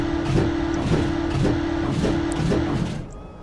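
A truck in the video game Socom idles and drives with a steady engine hum and a repeating rhythmic pulse that fades at the end, with no talking.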